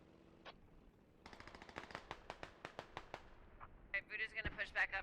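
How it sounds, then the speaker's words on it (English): Mortar and gunfire boom and crackle in a military video game, a rapid series of sharp distant-sounding reports building into a denser burst of explosions, with voices talking over the combat. "Mortars going on Mark 8."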